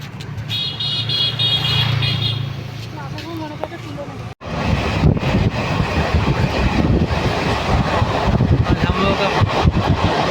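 Heard aboard a moving train, it rumbles steadily with a constant rattling roar, an engine hum and brief tones early on, then a sudden louder clattering rush after a sharp break.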